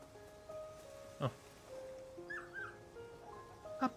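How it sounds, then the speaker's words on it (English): A puppy in the video game Kunitsu-Gami: Path of the Goddess gives soft, high whimpers and yips in short bursts, with a couple of brief louder yelps over a faint game background. "Puppy."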